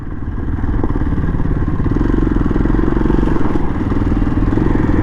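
A CIF 300L motorcycle rides a rocky gravel trail on a hill route in Rayong, Thailand. A loud, close, steady engine drone runs throughout, with rattling and clattering from stones and suspension over the rough ground.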